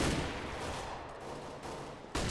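M4A4 rifles firing in Counter-Strike, rapid loud bursts of automatic gunfire crackling close up, with a sharp fresh volley at the end.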